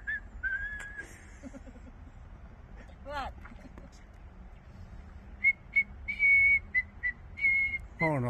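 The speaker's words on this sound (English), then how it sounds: "there's a fisherman out here that just won't stop whistling" A fisherman whistles short bright notes and a longer wavering tune at a lake in Maple Lake, BC. The whistling is moderately close over steady outdoor background noise, and faint talk occurs early on.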